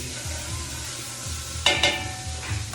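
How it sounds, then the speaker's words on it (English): Pork shoulder being stirred in a pot for pozole: a few scraping, clattering stirs stand out over a steady low sizzle, close and moderately loud, with no talking. "give that a stir."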